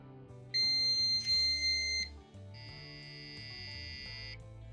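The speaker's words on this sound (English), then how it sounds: "we are able to generate the sounds for the buzzer" Electronic buzzer tones from a homemade keyless NFC motorcycle ignition sound in a few sustained bursts at shifting pitches, fairly loud and steady, with no voices.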